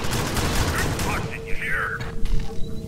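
Rapid gunfire in the sci-fi shooter game Alien Swarm, a dense crackling burst of shots early on giving way to scattered pops and game effects.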